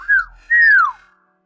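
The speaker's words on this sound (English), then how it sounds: "whistling in this voice changer is fucking weird" Two rising-and-falling whistles pass through a voice changer in a VR roleplay game, a short one then a longer sweeping one, close and fairly loud, with an odd processed tone.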